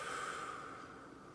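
A slow, deep exhale after a held breath during a centering exercise, a soft continuous airy rush that gradually fades, close and quiet with no talking.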